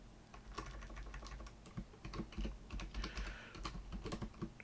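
Rapid, steady typing on a computer keyboard, a dense run of close clicking keystrokes with no talking.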